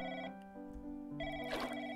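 A telephone rings in an office video game, a repeating electronic ring with sustained tonal bursts filling the short moment alone, with no talk over it.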